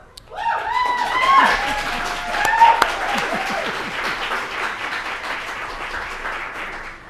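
Applause at a school board meeting fills the room: a steady wash of many hands clapping that swells early, peaks around the third second, then slowly tapers, with voices faintly underneath.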